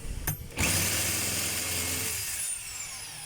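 A DeWalt D25032 rotary hammer running in drill-only mode makes a steady, close motor whir with a grinding hum after a short start, continuous and fairly loud for a few seconds.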